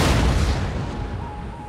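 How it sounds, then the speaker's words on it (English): Artillery in the strategy game Empire: Total War, a heavy low boom at the start followed by a long rumbling decay and faint distant battlefield noise. "I'll use the artillery on them. Yep, there they go, already starting the shots."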